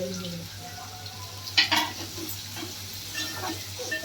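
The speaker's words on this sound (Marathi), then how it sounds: "कांदा टॅमॅटोमध्ये टाकून मस्तपैकी भाजून घ्यायचं." Onion and tomato with turmeric, chilli powder and masala fry in a pan, a soft continuous sizzle with a couple of sharp utensil clinks and stirring scrapes partway through.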